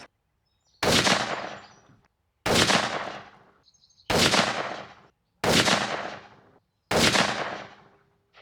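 Five loud, sharp .204 rifle shots fired while groundhog hunting in the open, each crack trailing off in a long rolling echo, spaced about one to two seconds apart with quiet between them.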